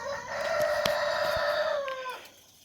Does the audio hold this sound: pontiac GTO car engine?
no